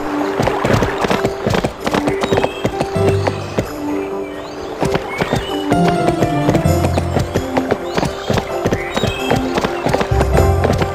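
Galloping hooves of a horse in the Barbie Horse Adventures: Wild Horse Rescue video game, rapid rhythmic clip-clop under continuous game music, loud and up front.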